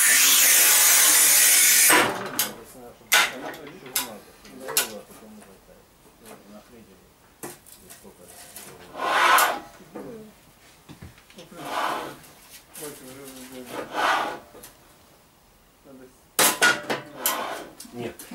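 Manual tile cutter, a Battipav PROFI EVO ALU being compared with Sigma NEX and Rubi TQ models, scoring and snapping a tile. A harsh scrape opens, followed by sharp clacks and knocks spaced apart. People talk over the work throughout.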